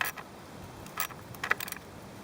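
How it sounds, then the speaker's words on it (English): A 10mm socket wrench tightens the spark plug coil bolts on a BMW. A few faint, quick ratcheting clicks come in short bursts, close by and quiet. "it's a 10mm socket. Same as before. You're just tightening them instead of loosening."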